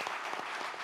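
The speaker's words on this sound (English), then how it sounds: "I would request all of you to give a real round of applause to Hafeez" Audience applause at a panel discussion on Mumbai's development, a dense patter of clapping that stays even and moderately loud through the short stretch.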